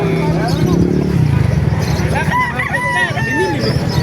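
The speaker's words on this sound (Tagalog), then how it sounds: "Dami manok dito." A rooster crows loudly nearby amid clucking chickens at a chicken market in Calumpit, with people talking over the noisy coop.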